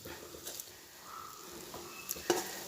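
Jackfruit seed thoran with its ground coconut mix being stirred in a pan, giving soft intermittent scraping and light sizzle, quiet and close, with a few sharper clinks near the end.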